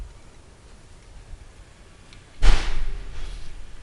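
A door bangs once in the wind with a single loud thud, followed by a low windy rumble, over an otherwise quiet indoor background.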